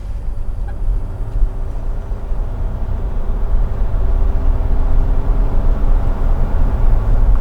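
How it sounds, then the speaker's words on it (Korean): Inside the cabin of a KG Mobility Rexton Sports Khan pickup, the diesel engine accelerates as a smooth, muffled low rumble that builds gently and steadily with no speech over it. "초반 이렇게 가속을 해보면 엔진이 디젤인 건 알겠어요 근데 디젤 음이 들어오는 게 진짜 굉장히 부드럽게 들어와요"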